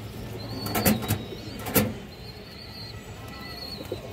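Female pigeons of a racing, high-flying breed, red-eyed and speckled, call from a nearby loft with soft cooing and a few sharp bursts, alongside faint thin whistles over a low background hum.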